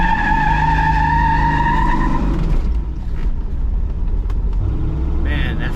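A restored 1970 Camaro Z28 RS with a four-speed and small-block V8 roars loudly at high revs while burning rubber, the engine note dropping into a harsh sustained tire squeal and rumble, close and continuous.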